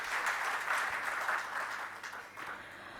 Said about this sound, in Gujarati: આજના કાર્યક્રમ માટે એક વખત જોરદાર તાળીઓ થઈ જાય